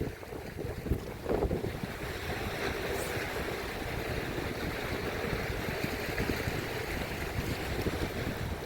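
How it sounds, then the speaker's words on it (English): Strong wind buffets the microphone in a constant heavy roar, with a rushing, surf-like texture and no voices, on a tidal shore at Aberthaw. "it's quite windy"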